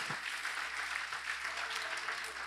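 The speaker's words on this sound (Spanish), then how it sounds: "denle un aplauso al Señor" A church congregation applauding, a continuous even wash of clapping from many hands, moderately distant and sustained without pause.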